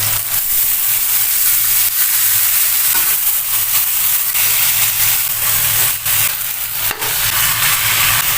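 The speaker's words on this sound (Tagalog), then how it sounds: "So medyo gisado na tong ating toge" Garlic, onion, tomato and bean sprouts sauté in a hot pan, a steady loud sizzle and frying hiss running continuously with a few soft stirring knocks and no talk.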